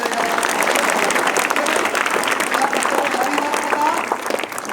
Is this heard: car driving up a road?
no